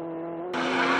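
A vintage race car in an SVRA road race at Coronado runs on track with a steady engine drone that swells suddenly into a louder, harsher roar partway through.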